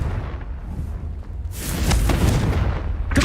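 Confringo fire spell explosion in Hogwarts Legacy, a video game, bursting into a loud rumbling blast that swells and sustains over low crackling debris.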